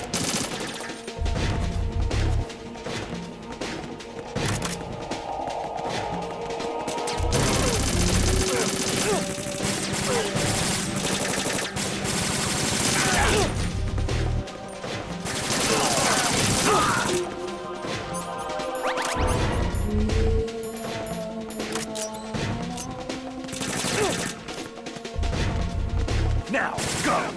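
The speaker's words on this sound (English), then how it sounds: "I guess it's automatic fire" Automatic gunfire in a stealth-themed video game crackles in repeated loud bursts and sustained volleys, with someone talking over parts of the shooting.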